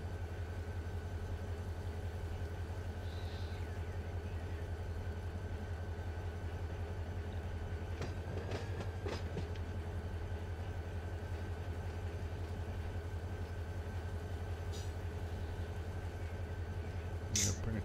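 Steady low diesel rumble of a single CSX locomotive hauling a local freight train in the Run8 simulator, a continuous engine drone with a brief burst of clanking and squeal midway and a faint chime near the end.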